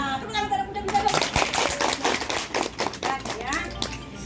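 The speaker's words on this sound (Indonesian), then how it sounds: "tepuk tangan pada bunda bisa dong" An audience of mothers at a national family-development competition claps hands in a burst of scattered, fairly close applause, with voices talking over the clapping.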